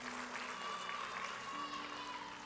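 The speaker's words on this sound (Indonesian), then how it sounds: "Kasih tepuk tangan buat Tuhan." A church congregation applauds, a steady wash of clapping from a crowd with voices mixed in, fairly faint and distant.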